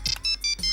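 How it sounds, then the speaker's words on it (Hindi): A mobile phone ringtone for an incoming call chirps in three short, bright electronic bursts in quick succession, clear and close, in a Hindi television drama scene. "तुम्हारे भाई साहब का फोन है।"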